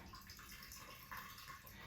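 Shower head on its jet setting sprays water in a quiet, continuous hiss, a faint steady stream of splashing water with no talking.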